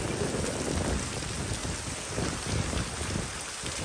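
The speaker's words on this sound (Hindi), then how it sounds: "इतना बारिश है छाता हिल रहा है" Heavy rain drums steadily on an umbrella during a morning walk with a Rottweiler in a downpour, a dense, close, continuous patter with no speech.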